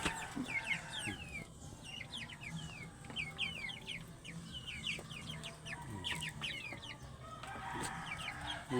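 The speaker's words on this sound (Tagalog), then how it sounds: "manok" Chickens cluck and chatter continuously in a farmyard, many birds overlapping at steady loudness, with a rooster's crow in the background.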